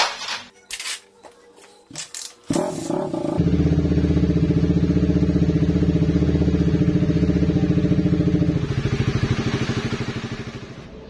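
A rebuilt RS 150 motorcycle with a ported, high-compression engine and the base gasket removed: a few clanks and clicks, then the engine catches and idles with a loud, steady, rapid throb that fades slightly at the end.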